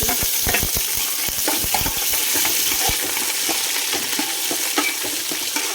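Onions and green chillies fry in hot oil in a pan, a constant bright sizzle broken by sharp scraping clicks of a spatula stirring, close and loud.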